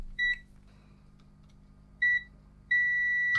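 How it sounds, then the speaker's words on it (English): A multimeter in continuity mode gives three short high beeps, the last one held a little longer, over a faint low hum in a quiet room. "Multimeter in continuity."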